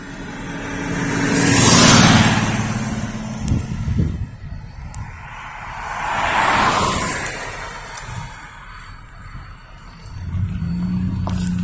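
CSX freight train hopper cars rumble past trackside at Lynchburg, Virginia, with rolling waves of rushing, clattering wheel noise swelling and fading as each car passes close by.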